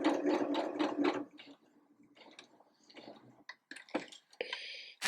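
A domestic sewing machine stitches a T-shirt neckband in a short rapid burst of rhythmic needle clatter, then falls quiet apart from faint clicks and handling noises.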